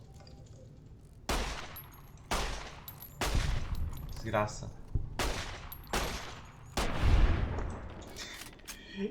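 Gunfire in the game Fallout New Vegas: about six sharp, loud shots spaced a second or so apart, each with a short decaying tail, while someone talks quietly between them.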